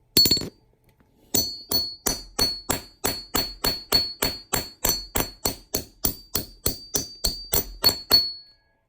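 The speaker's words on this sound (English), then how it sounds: "put the punch in, and hammer it through." Steady hammer strikes on a metal punch driving through a quarter coin, about two or three per second, each a sharp clang with a bright ringing tail.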